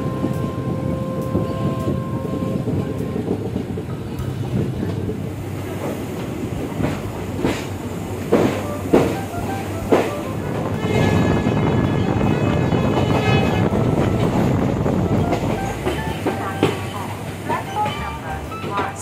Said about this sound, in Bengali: আর এখন ট্রেন আমাদের গুয়াহাটি স্টেশন ঢুকছে।